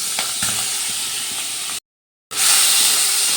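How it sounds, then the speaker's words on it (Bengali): Shrimp frying in hot oil in a wok, giving a loud, steady broadband hiss and sizzle that breaks off into a brief silence and then returns even stronger. "আর চিংড়ি মাছগুলো তেলে দিয়ে দিলাম।"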